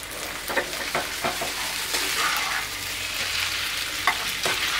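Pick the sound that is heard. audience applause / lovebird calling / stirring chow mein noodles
stirring chow mein noodles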